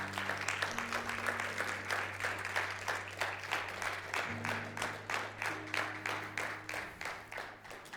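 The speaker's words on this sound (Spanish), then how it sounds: "Denle un fuerte aplauso a Héctor." Church congregation clapping in a steady, dense burst of applause that holds for the full stretch, loud and close, with sustained organ or keyboard tones underneath and no talk.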